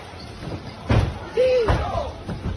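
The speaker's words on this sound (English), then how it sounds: "They're knocking TVs over." A television topples over inside a crowded Costco store, a sharp slam and thud followed by another heavy knock amid a chaotic crowd, with voices shouting in the background.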